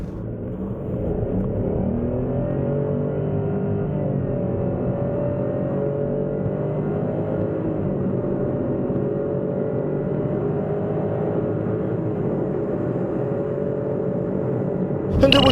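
A 2016 Chevrolet Spark accelerating, its small engine droning steadily from inside the cabin as pitch slowly climbs, a continuous moderate hum with no talking.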